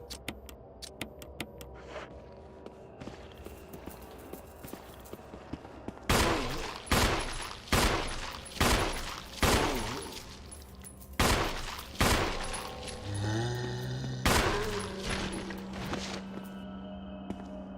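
Pistol fired in Resident Evil REmake, a run of about a dozen loud, evenly paced shots, each with a short echoing decay, after a stretch of quieter ticking and clicks.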